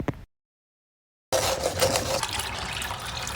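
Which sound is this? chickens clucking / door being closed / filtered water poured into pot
filtered water poured into pot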